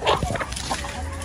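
Backyard hens clucking while grazing in a home garden in the late afternoon, a few short close calls over steady outdoor background noise, fairly loud.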